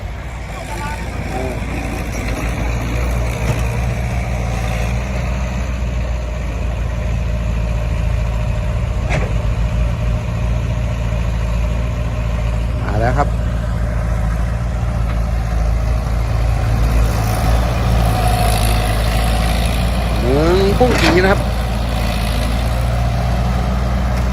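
An old six-wheel dump truck's diesel engine runs steadily with a deep, loud idling rumble throughout, while people talk in the background and brief squeaks and clanks cut in.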